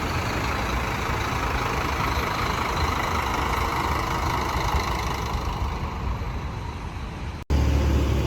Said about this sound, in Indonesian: ini adalah bus Agramas double decker yang akan kita naiki